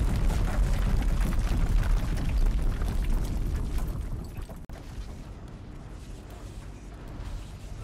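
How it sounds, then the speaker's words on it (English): A mighty explosion in the video game Horizon Zero Dawn, a dense, loud rumbling roar that fills the first seconds, then subsides into a lower, steadier blast-like rumble without speech. "Oh, that is a mighty explosion."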